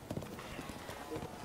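Rapid hoofbeats of a galloping horse in The Legend of Zelda: Breath of the Wild, steady and fairly close, with faint background game sounds layered underneath.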